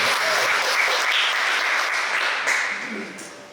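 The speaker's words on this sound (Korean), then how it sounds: "박수 크게 치셔도 돼요." A mission forum audience claps loudly and continuously, a dense crowd applause that holds steady and then tapers off near the end.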